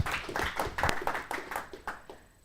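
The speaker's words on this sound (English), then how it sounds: "please give a round of applause for Matteo from F-Secure" A small conference audience at a security talk applauds the next speaker, scattered claps that start brisk and near, then thin out and fade within a couple of seconds.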